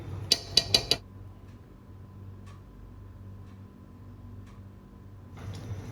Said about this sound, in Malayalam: അതിൻ്റെ മുകളിൽ ബിരിയാണി വെക്കാനുള്ള പാത്രം വെക്കുക